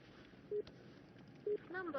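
Telephone keypad tones as a phone number is dialed: two short, steady beeps about a second apart, with a faint voice-like sound following at the end.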